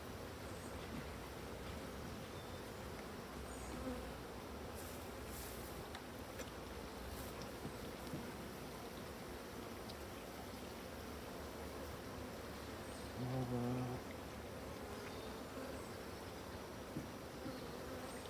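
Honeybees buzz in a dense, steady drone throughout an open beehive inspection, close and continuous, with a brief louder hum near the end.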